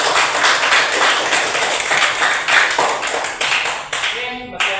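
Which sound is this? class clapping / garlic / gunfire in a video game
class clapping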